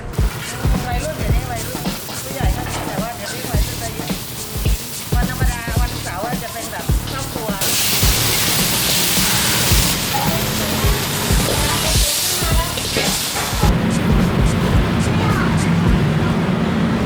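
Pork stir-fried in a wok at a Thai food stall makes a loud, steady hiss and roar in the second half, after a stretch where people talk over clattering stall noise.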